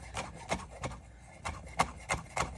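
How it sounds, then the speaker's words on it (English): A knife slices raw salmon on a cutting board in a steady series of about eight soft, close-up knocks, each stroke ending in a light tap on the board. "I'm just going to run my knife through it really carefully"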